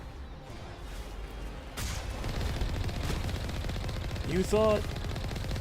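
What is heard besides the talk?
gunfire in the video game Mass Effect Legendary Edition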